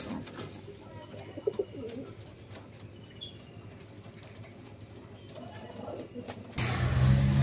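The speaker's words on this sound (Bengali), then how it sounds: "এগুলো গলা পায়রা আছে" Pigeons coo softly at a pigeon and bird medicine shop in Kolaghat, West Bengal, with a few low calls and wing flutters over background murmur, before louder traffic-like noise rises at the end.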